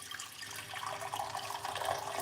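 Hot water pours steadily into a large cup, a close bubbling, splashing stream with no talk over it.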